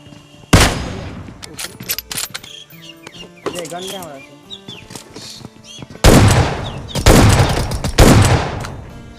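Gunfire rings out during a fight in a multiplayer shooter video game: loud bursts of automatic shots start and stop across the clip, with quieter single cracks and chirpy game effects between the bursts.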